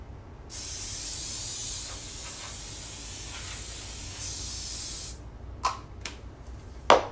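Cleaning spray hissing onto a surface in a long continuous burst, then a few short sharp spritzes near the end, close and fairly loud.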